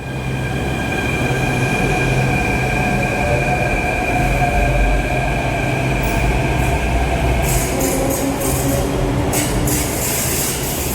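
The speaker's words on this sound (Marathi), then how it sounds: "बाकी मेट्रो बघा जायला लागले" A metro train pulls away from a station in Jaipur, a steady loud rumble of wheels and motors with sustained whining tones and faint rail squeal, building slightly with brief bright hiss bursts near the end.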